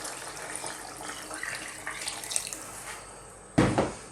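Water trickles and splashes faintly in a kitchen, then pours in a sudden louder gush near the end as it goes into a pot of chunky Middle Eastern lamb stew (saloona).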